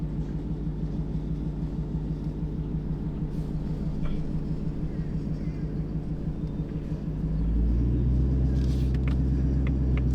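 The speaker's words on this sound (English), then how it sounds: "You can come off it very slowly, and the car will start to move." A twin-turbo Ford Mustang with a manual gearbox idles with a steady low rumble, then its engine note deepens and grows slightly louder as it eases away uphill, heard from inside the cabin.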